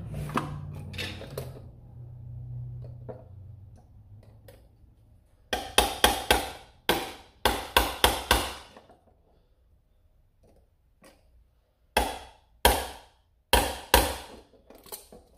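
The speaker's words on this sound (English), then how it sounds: "Get my little tack hammer here" Sharp, close taps of a small hammer come in quick clusters, separated by quieter pauses with faint handling noise.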